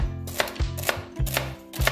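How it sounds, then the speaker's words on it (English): Celery being chopped on a board: four sharp, evenly spaced knife strikes, close and clear, over a low steady background hum. "Now I'm just chopping the celery and putting it in the soup."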